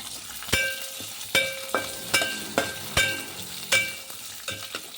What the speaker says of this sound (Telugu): ఇవి బాగా ఫ్రై అవ్వాలండి.